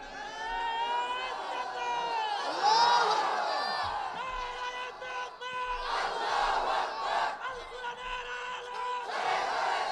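A crowd at a religious gathering in Sundarganj, Gaibandha chants takbir, Allahu Akbar, in loud, massed unison. Several rising shouts swell and overlap, with a lead voice calling between them.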